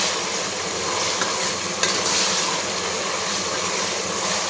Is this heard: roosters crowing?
no